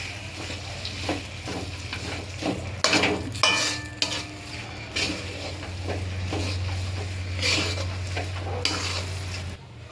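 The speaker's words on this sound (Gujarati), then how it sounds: "હવે આ ગોળને આપણે આ લોટ સાથે બરાબર મિક્સ કરી લઈશું." A spatula works jaggery into flour in a pan for green turmeric barfi, with scraping and stirring strokes and occasional utensil knocks over a low steady hum, close and moderately quiet.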